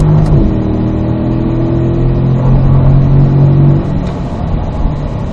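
A race car accelerating hard on the Spring Mountain track, heard from inside the cabin: a loud, steady engine drone with rising and falling tones, then a brief shift and continued roar.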